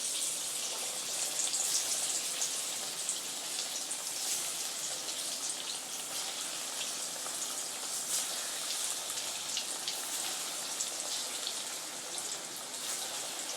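Raw banana kola balls sizzle steadily in medium-hot oil over a lowered flame, a dense, continuous crackling hiss with no talking.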